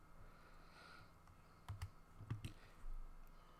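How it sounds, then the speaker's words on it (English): Quiet typing on a computer keyboard indoors, a few soft scattered key clicks and small clusters of taps over faint room hiss, with no voice. "because I'm typing"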